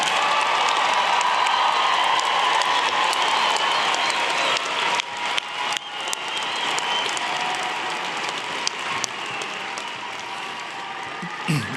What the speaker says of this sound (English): And now please applaud for our School of Family Life graduates.